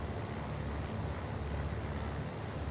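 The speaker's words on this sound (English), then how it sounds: "And I can hear the rear engine." Rear engine of a BN2A Trislander spooling up during start in a flight simulator, a steady low droning rumble with a faint hum, constant and even, with no talk over it.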